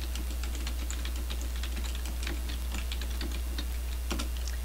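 Steady, rapid typing on a computer keyboard while marking up text in a word processor: a continuous run of close, crisp key clicks with no talk.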